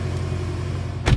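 A BMW M6 Gran Coupe's engine hums at a steady idle, low and even, ending with a short sharp burst of sound.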